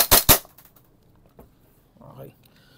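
An Umarex VFC Glock 17 Gen 5 airsoft pistol, French edition, fires two sharp, close pops in quick succession, followed by fainter clicks and a light mechanical rattle.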